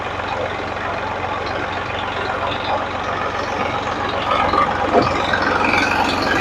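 A truck unloading soil beside a JCB at a work site, a continuous loud engine roar with rattling and a brief hiss-like burst near the end, no voices.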